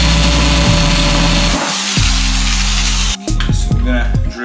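A power drill whirs steadily with a droning motor tone, pausing briefly and restarting, its pitch dipping as it bites through wood.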